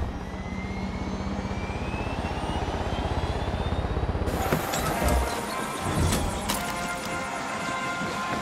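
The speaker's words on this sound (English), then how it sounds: "There's an enemy chopper creeping the skies nearby." An enemy helicopter in Far Cry 6 drones steadily overhead, its rotor and engine noise a continuous loud hum that shifts and intensifies partway through.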